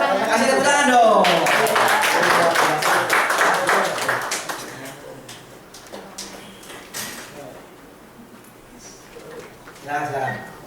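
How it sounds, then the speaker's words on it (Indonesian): A small audience at a Bahasa Indonesia presentation on illustration and closing techniques claps in a brief, loud burst of overlapping hands that fades within a few seconds, with scattered voices and a dove cooing nearby. "Kasih tepuk tangan dong"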